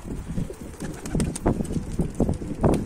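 Tumbler pigeons cooing on top of their coop: soft, low, throaty coos repeating in short bursts, fairly close, with a faint outdoor background and no talking.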